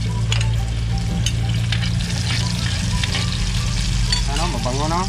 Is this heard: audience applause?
no